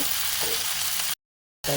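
Green chillies, roasted gram, mint and greens roasting in a pan, a steady close sizzle and crackle that cuts out briefly before resuming.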